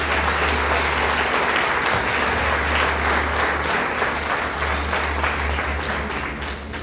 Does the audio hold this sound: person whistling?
no